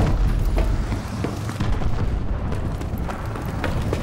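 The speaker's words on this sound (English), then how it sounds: "Enemy missile strikes in." Enemy missile strikes pound the battlefield in Call of Duty: Advanced Warfare, a dense, continuous barrage of loud booming explosions and crackling bursts rumbling close by without pause.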